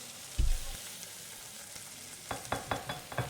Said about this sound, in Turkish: Pişiriyorum sosisi.